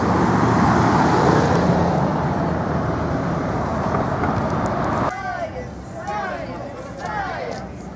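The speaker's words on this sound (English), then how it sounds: "Look at all the cars." Street traffic during an Earth Day march in Alpena, Michigan: a steady roar of cars passing on the road nearby, loud at first and easing off, with voices of people speaking over the later part.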